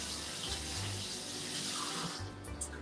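Hands are washed under a running kitchen tap before cooking, a steady close rush of water with slight shifts as the hands move through the stream.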